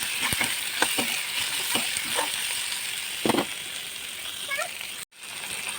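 Chengmora greens frying in a pan with dried chilli and garlic, a steady sizzle with intermittent scraping stirs of a utensil against the pan, then a brief sharp knock near the end.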